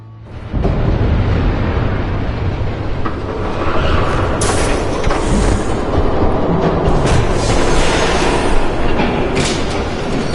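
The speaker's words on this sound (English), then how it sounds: "There's a train coming." A train passes close by in a Batman video game, opening with a rising rumble, then loud, continuous rolling with clickety-clack rhythms and metallic screeches over the rest.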